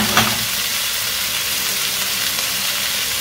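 Chicken thighs hit a hot paella pan and sizzle loudly and steadily, a dense frying hiss with a sharper burst at the start, close and with no talking.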